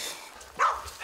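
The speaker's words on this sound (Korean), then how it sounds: "어, 강아지들만 왔네?" A dog at a rural mountain homestead near a pine tree gives one short, fairly close bark midway through, over quiet outdoor background noise.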